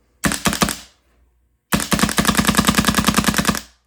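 A Planet Eclipse Autococker paintball marker fires in rapid bursts: a short string of three or four sharp pops, a pause, then a longer fast, even volley of crisp shots, close and loud with no talking.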